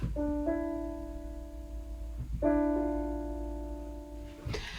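Soft piano notes from a Debussy prelude sound two gentle stepping phrases, each a held low chord with an added note, heard quietly and alone against faint background hiss.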